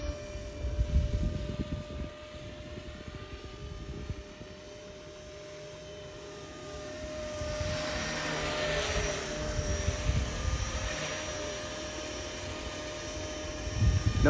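A radio-controlled scale EC145 model helicopter with Trex 450 mechanics and a five-blade rotor flies outdoors on a windy day. Its steady whirring hum fades slightly, then swells louder as it passes nearer.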